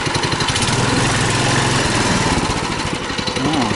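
A tricycle's small engine drones loud and close while it rides over rough off-road ground, a constant buzzing note that wavers in pitch throughout.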